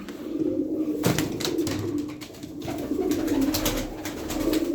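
Pigeons coo nearby in low, throaty bursts, with a few sharp wing flaps and rustles mixed in.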